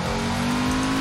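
A Mercedes GT engine in the racing game Forza Horizon 4 holds a steady, loud, tonal drone at constant revs for about a second, alone with no speech.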